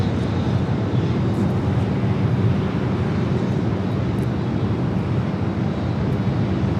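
An Air France Boeing 777-300ER arriving at LAX gives a steady, broad jet roar from a distance with some wind buffeting, continuous and even throughout, with no talk.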